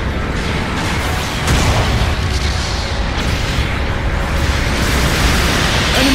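A mobile suit blows up in Gundam Battle Operation 2. The blast is a dense, loud roar of booming rumble and noisy crackle with a stronger surge partway through, and no voices can be heard.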